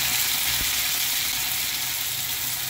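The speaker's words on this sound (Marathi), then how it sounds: "तूप गरम झालं की त्यामध्ये जिरं घालायचं" Ghee tempering with cumin, green chilli and curry leaves sizzling in a hot pan, a dense steady hiss with a single soft knock early on, close and fairly loud, no voices.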